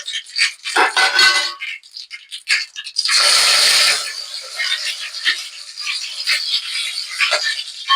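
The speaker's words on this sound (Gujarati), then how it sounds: "રાઈને ફૂટવા દઈએ" Mustard seeds and curry leaves hit hot oil and crackle in scattered popping bursts, with a louder hiss midway, then lighter spitting and popping, close by.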